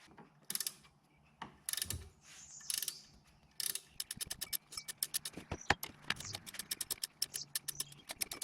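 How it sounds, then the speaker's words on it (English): A ratcheting wrench clicks in rapid, uneven runs of sharp ticks while loosening a bolt on a Nissan Altima water pump, with a few heavier metallic knocks between bursts, close and fairly clear. "So I'm going to get a ratcheting wrench."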